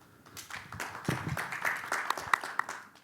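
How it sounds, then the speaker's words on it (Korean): Audience clapping at a Korean digital policy debate forum, a short scattered round of applause from a modest crowd that builds over a few seconds, with a faint voice at the start. "큰 박수 부탁드립니다"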